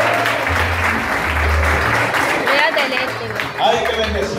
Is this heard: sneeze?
no